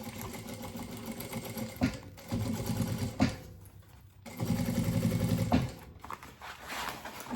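A sewing machine stitches a seam at stitch length 3.5, with backstitching at the start and end, running in steady bursts of motor whir with short pauses between them.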